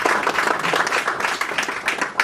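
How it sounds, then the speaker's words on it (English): An audience at a tech launch event in a hall applauds the sponsor Citrix, a dense steady round of clapping from many hands, close and fairly loud, with no talk over it. "so a round of applause for Citrix"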